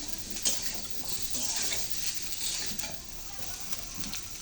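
Water going into a hot pan of frying chillies for a kaila fish curry: a dense, loud hiss and crackle with clinks of utensils, continuous and close, without any voices.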